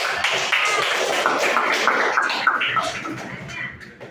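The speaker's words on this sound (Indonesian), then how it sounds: "Kita kasih tepuk tangannya." A class applauding at school, a brief burst of mixed clapping from students in a classroom, uneven and somewhat sparse, with voices calling out over it before it tapers off.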